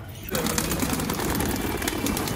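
Pigeons in an aviary coo and rustle as they leave their enclosure one by one during colony cleaning, a steady murmur of soft calls with a faint voice in the background.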